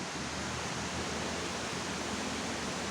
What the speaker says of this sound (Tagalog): Ayun yung falls, oh.